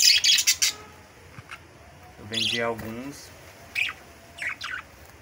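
Budgerigars chirp in an aviary, scattered short tweets and squawky calls, some close and bright, with someone speaking between them.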